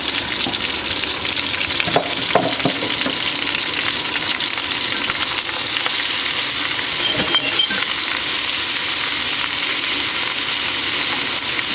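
Aromatic vegetables caramelizing in a pan for brown stock make a loud, continuous sizzle and crackle, broken by a few stirring scrapes and brief bursts, with no talk.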